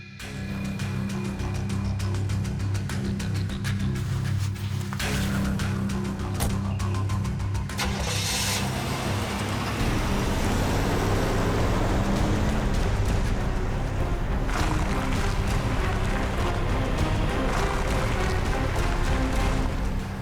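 Car engine running at a steady low drone, rising into a broader rumble of driving with road and wind noise, continuous for about twenty seconds with a few brief clicks early on.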